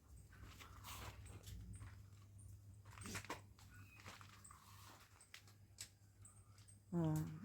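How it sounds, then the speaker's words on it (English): A dog somewhere outdoors on a still morning, faint and distant among birdsong and ambient noise, with a brief louder whimper or yelp near the end; a voice speaks quietly at times. "Oh, it's a dog."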